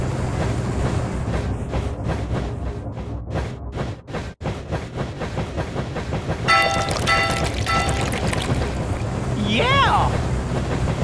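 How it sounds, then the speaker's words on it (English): Toy dinosaur train racing along rails in a video game, a steady rolling rumble with rhythmic pulses, game music and chimes over it, and a brief whoosh near the end. "The dinosaur train pulls ahead!"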